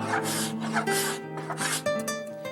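A steel cabinet scraper rasps across a wooden carved paddle, giving steady, close scraping strokes that run continuously with a few brief pauses and no talk.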